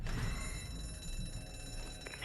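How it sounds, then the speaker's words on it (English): An alarm rings in the zombie video game Zombi, a steady electronic ringing held continuously over a low rumbling background with no voices. "Shit, it was rigged to the alarm."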